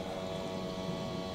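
A string trimmer runs steadily somewhere outdoors, a continuous droning engine whine that stays fairly faint and distant with no break across the short stretch.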